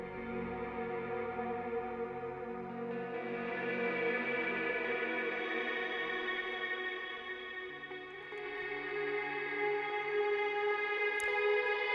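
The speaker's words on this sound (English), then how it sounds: "this ambient guitar, which is sort of wafting around in the background" An ambient electric guitar swells and drifts, its sustained notes blurred by chorus and echo into a hazy, continuous wash.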